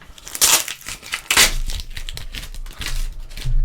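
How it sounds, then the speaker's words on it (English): Packing tape being torn and peeled off a heavily taped package, two sharp ripping bursts followed by crinkling and scraping handling noise, close and loud with no talk. "So that just tore the first layer off to then give me more tape."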